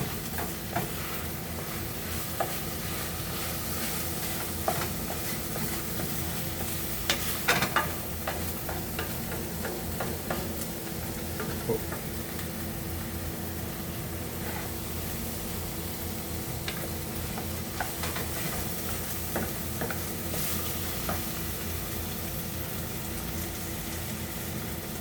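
Garlic sizzling in oil in a pan while being stirred, a steady close frying hiss with scattered scraping and clicking of the utensil throughout.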